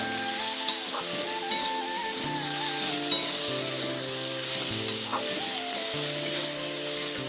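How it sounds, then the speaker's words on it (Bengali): Potato and tomato fry and get stirred in a pan, a continuous soft sizzle with occasional spoon clicks, under steady background music. "আলু আর টমেটো ভাজতে ভাজতে আমি দিয়ে দেবো পরিমাণ মতো নুন"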